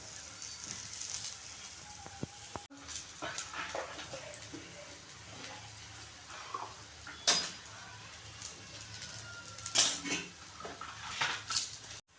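Eggplant slices frying in a pan are turned over with a utensil, giving a few sharp clicks and scrapes against the pan over a soft, steady sizzle.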